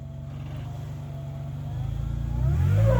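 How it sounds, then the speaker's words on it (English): Off-road 4x4 engine on the Moab Rim trail, a low rumbling idle that builds into a louder rising rev as the throttle opens, close and steady. "Get it rolling and just kind of lay into the throttle"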